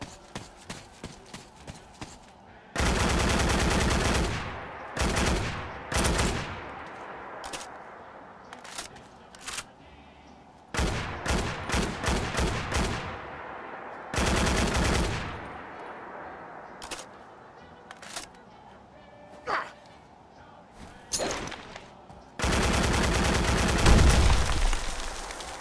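Custom BAR rifle from a Fallout 4 mod firing in the game, in several loud bursts of automatic fire separated by short single shots and mechanical clicks, with no talking.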